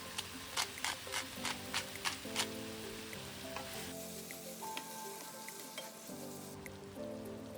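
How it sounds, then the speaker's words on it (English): Bite-sized chicken breast pieces fry in a pan with a steady sizzle, set against a layer of tonal background sound and a few brief, sharp ticks. "Now I'm adding my bite-sized pieces of chicken breast to the pan."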